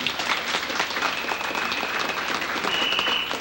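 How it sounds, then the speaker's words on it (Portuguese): Steady crowd applause at a folk dance competition opening a festival, dense and continuous throughout with a faint whistle-like tone drifting over it. "Un aplauso para Andame."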